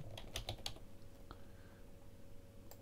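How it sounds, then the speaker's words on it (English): Fast typing on a computer keyboard, a short cluster of faint key clicks followed by quiet room hum and a lone tap near the end, with no talk. "I'll type it."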